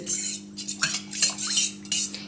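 A spoon clinks and scrapes against a bowl in quick irregular strokes, mixing a paste with water for a hair treatment, close and fairly soft over a faint steady hum.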